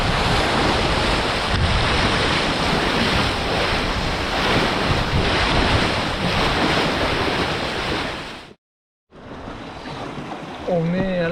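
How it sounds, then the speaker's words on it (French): Sea waves rush against a Mini-Transat sailboat surfing at speed on a solo qualification passage toward Majorca, a loud, continuous roar of water and heavy wind buffeting on the microphone that briefly cuts out near the end. "Voilà, voilà le surf."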